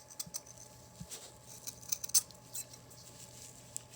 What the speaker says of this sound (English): I'm going to trim anything off that's sticking out